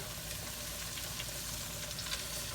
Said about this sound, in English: we're just going to get a nice golden brown color on these. You want to kind of sear them off